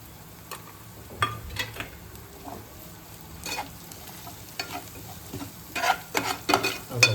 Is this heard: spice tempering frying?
yes